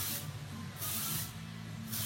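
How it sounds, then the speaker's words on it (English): Texture spray from a Wild Stylers aerosol can hissing onto hair in three steady bursts, close and loud, each spray lasting about half a second with brief gaps between. "I'm going to apply a little bit of hairspray now"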